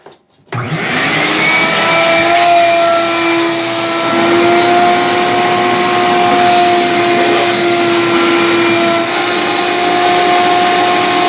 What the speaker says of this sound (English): Just grab a shop vac, rigid, whatever you got.